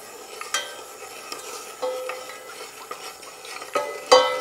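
A spoon stirring water, sugar and a cinnamon stick in a pot makes soft swishing and a few sharp metallic clinks against the side, the loudest near the end, close and quiet with no talk.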